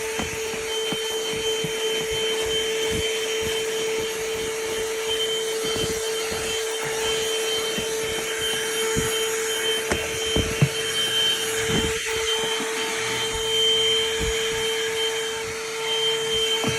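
A handheld car vacuum cleaner runs steadily with an attachment fitted, a constant whine with a low drone beneath it. Scraping and knocking noises come and go as the nozzle works over surfaces close by.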